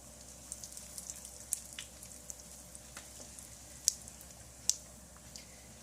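Whole cumin seeds and four or five round dried red chilies sizzle in hot oil for a dhaba-style moong dal tarka, a faint, steady crackle with a few sharp pops.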